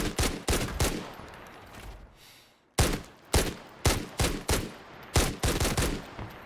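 A weapon in the Arena Breakout Infinite video game fires loud, close shots in rapid bursts, with a brief pause partway through before the fast firing resumes.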